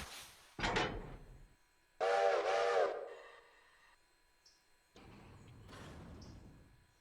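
A steam train's whistle sounding in repeated blasts in the rail simulator Railroader, with rumbling and hiss between calls as the locomotive draws nearer.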